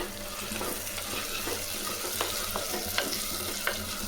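Four large ripe tomatoes fry in a pan with curry leaves for tomato kuzhambu, giving a steady close sizzle broken by occasional soft clicks of stirring.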